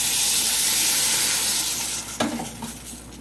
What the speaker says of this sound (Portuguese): Vem com um pouquinho de leite aqui